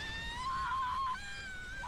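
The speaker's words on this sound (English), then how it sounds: "Nothing whets my appetite like tortured screams." A tortured scream from an anime episode, a sustained wailing cry that holds steady before breaking off and returning faintly over background music.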